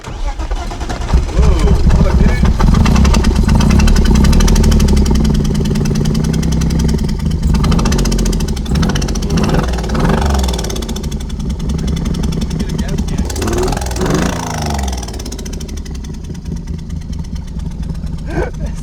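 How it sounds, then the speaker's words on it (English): A BMW E30 engine with suspected rod knock runs loud and close with a rough, uneven churn that eases toward the end, while people talk over it. "It sounds like rod knock with it open."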